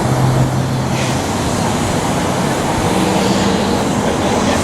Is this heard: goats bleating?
no